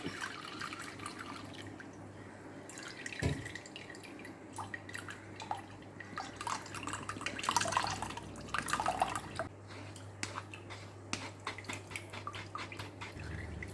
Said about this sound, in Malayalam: ഇനി ഇത് നമുക്ക് ഇരുമ്പ് ചീനച്ചട്ടിയിലേക്ക് ഒഴിച്ചു കൊടുക്കാം